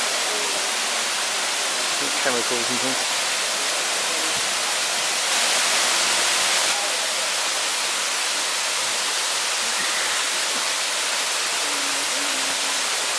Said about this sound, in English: The Diamond Botanical Gardens with the volcanic springs and waterfall